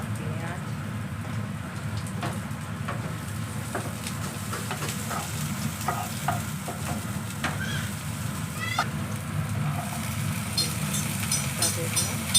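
Garlic, green chilli and onion dropped into hot oil in a pan give a steady, dense crackling sizzle throughout, with faint occasional clicks above it and no speech.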